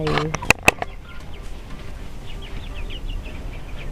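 Chickens cluck and chirp softly nearby under a low outdoor murmur, with a couple of sharp clicks near the start.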